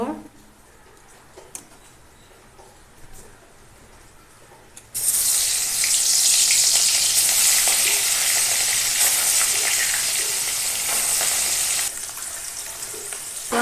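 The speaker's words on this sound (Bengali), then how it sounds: "মাছগুলো ভেজে নেব।" Fish pieces coated in salt and turmeric fry in hot oil in a kadai, a loud steady sizzle bursting in after a quieter start and holding for several seconds, with faint kitchen sounds and no talk.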